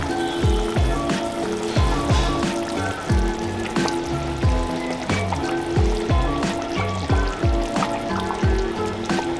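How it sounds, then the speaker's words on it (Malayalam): Mackerel curry gravy boiling in a pot as fish pieces go in: continuous loud bubbling and plopping with repeated wet bursts and a busy sizzle, close and steady throughout. "അപ്പോൾ തിളച്ച ഗ്രേവിയിലേക്ക് നമുക്ക് മീൻ പീസ് ഇട്ട് കൊടുക്കാം"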